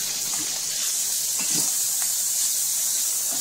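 Pork and onions sizzle in a pan after being flipped a second time, giving a steady, close frying hiss that holds evenly throughout with faint crackles and no talking.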